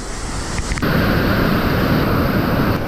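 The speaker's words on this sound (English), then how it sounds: "It's a raging torrent." A raging mountain creek roars loud and close, a dense, continuous rush of churning water that swells slightly and holds steady without pause.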